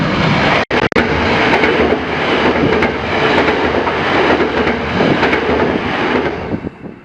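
A train on the Wellington, New Zealand railway roars loudly and continuously past close by, with a dense rumbling rush, a couple of sharp brief dropouts early on, and faint rhythmic clatter before it eases slightly at the end.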